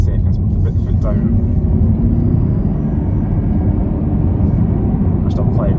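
Interior drone of a 2021 Lexus UX 250h hybrid accelerating under full throttle, a steady, loud low rumble of engine and road noise that holds constant for several seconds, with a voice talking faintly over it.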